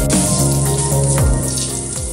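A dried red chili and five-spice seeds sizzle in hot oil for a cucumber chutney, a loud, continuous close-up crackle with faint tonal sounds underneath.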